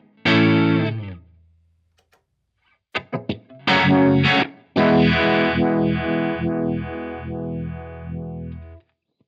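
Dry electric guitar with no vibe effect: a single chord that rings and dies, a pause, a quick cluster of picked notes, then a long sustained chord that slowly decays. Close, fairly loud, no voices.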